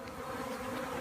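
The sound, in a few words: swarm of bees buzzing around a box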